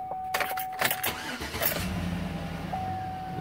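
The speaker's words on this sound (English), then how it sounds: "So the truck started right up." A GM truck engine starting after vapor purge valve work: a few rattling clicks and a short crank, then the engine catches and settles into a steady, close idle.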